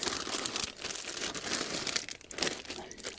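A plastic Ziploc bag holding a Sawyer Squeeze water filter crinkles and rustles up close in quick, irregular bursts of crackling, fairly quiet and with no voices.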